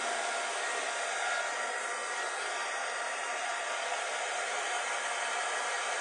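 A heat tool drying ink on a stamped and embossed card gives a loud, steady blowing roar that holds without a break from start to finish, close up and with no voices.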